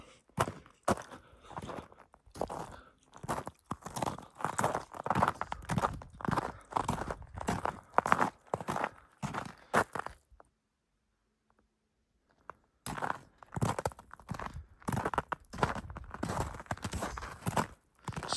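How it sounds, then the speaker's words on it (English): Footsteps crunch on cold, frozen snow in a winter forest campsite, a steady walking rhythm of crisp crunches close by, pausing into near silence for a couple of seconds before the crunching steps resume. "Snow's sure crunchy when it gets colder."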